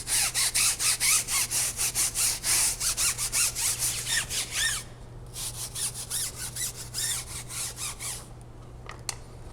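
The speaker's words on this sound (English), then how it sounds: "I like using it with a nifty brush because they're a nice stiff bristle brush, which is definitely going to help me with agitating all the grime" A stiff bristle brush scrubs grime off a car tire in fast back-and-forth strokes, loud and close. The rasping rhythm runs steadily, pauses briefly, resumes more softly, then stops.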